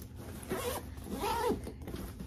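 A zipper is drawn open along a zip-around side pocket on a duffel bag. It sounds as two short, close rasping pulls, each under a second, with a brief pause between them and no talk.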